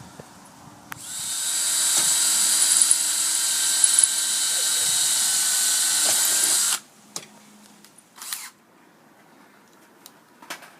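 A power drill whirs steadily at high speed for about six seconds driving stainless steel screws through plywood into a metal frame, then stops, followed by a short second burst and a few faint clicks.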